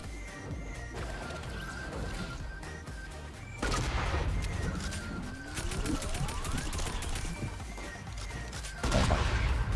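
Gunfire rattles through a Fortnite match, with dense crashing shots and bursts over a constant loud game soundscape. A rising whistling tone sweeps upward midway, and heavier volleys hit near the start and end.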